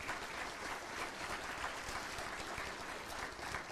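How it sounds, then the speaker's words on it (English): Steady, dense applause from a crowd at an educational support professional of the year event, continuous clapping that fills the space without pause or voices. "A round of applause for all of those different groups."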